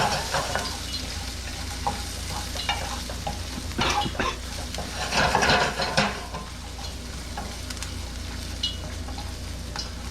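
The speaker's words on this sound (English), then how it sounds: "And we want to stir everything around in this oil." Minced ginger and garlic sizzle in hot oil as they are stirred, a steady close hiss punctuated by scraping utensil strokes and a brief louder burst midway.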